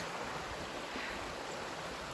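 A flooded creek overflowing its banks after heavy rain on a rural homestead rushes past in a steady, broadband roar of water, continuous and unbroken with no voices.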